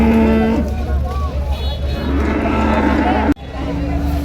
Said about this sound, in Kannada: ಹಸು.